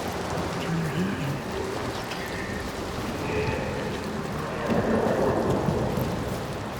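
A thunderstorm in Senua's Saga: Hellblade II, heard as the sea giant approaching: heavy rain hisses steadily over deep rumbling thunder that swells toward the end, loud and enveloping with no voices.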